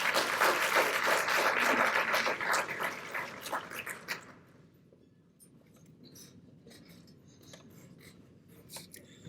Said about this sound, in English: you should recognize her with a round of applause